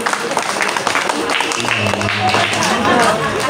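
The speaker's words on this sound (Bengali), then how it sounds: "আপনারা একটু তালি দেন তো সবাই" An audience claps along at a devotional kirtan with bhajan singing, a busy continuous patter of hands mixed with voices and music, crowded and fairly loud.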